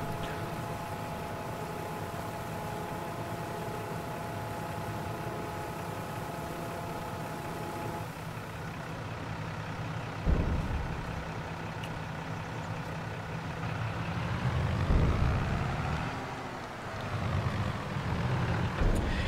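A powerful tractor engine in Farming Simulator 22 runs steadily at a constant hum, then revs and shifts in pitch with some clunks and changes in load toward the end, fairly loud and without talking.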